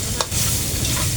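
Cooking oil sizzling in a pan as Bicol Express gets underway, a brief loud steady frying hiss with one clatter near the start, no voices.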